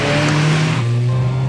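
Skoda Octavia RS230 on a racetrack, its engine a loud, steady drone that drops slightly in pitch partway through, with a faint hint of tire noise and no voices.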